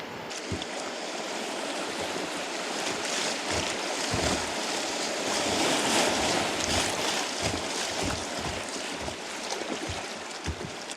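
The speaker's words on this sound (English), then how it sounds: "that looks like a pretty easy rapid" Rapids on the Jack Carter River rush and churn in a continuous loud roar, with occasional low thumps of water against a small boat.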